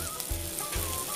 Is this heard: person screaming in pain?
no